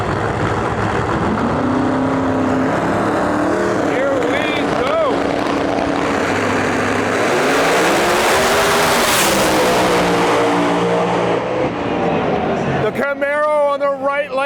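A Camaro drag car launches down the right lane at a Lights Out 16 eliminations event, its engine roaring loud and close with rising, sweeping pitch over steady broadband noise, while an announcer talks over it.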